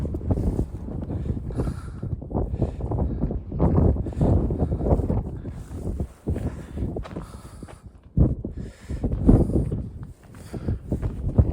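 Strong outdoor wind buffets the microphone in heavy, gusting rumbles that swell and drop repeatedly. A few sharp lulls break the loud, continuous roar.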